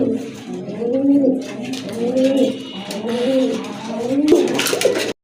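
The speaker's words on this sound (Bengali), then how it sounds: "আর খুব ভালো কিন্তু ডাকে কবুতরগুলো" Giribaj pigeons, a pair offered for sale, coo in repeated low rolling phrases that run steadily throughout, close and fairly loud, with a brief sharper noise near the end.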